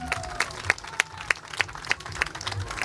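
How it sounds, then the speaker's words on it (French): A festival crowd applauds its four guests, with sharp claps landing in a steady rhythm of distinct bursts against a low background murmur, fairly close and moderately loud. "Un tonnerre d'applaudissements pour nos 4 invités, merci beaucoup."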